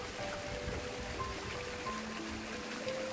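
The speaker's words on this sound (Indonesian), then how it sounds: "gemericik air dari pancurannya" Water splashes from a fountain spout into a koi pond at a hillside Marian grotto shrine, a steady, gentle rush of falling water with faint thin tones drifting above it.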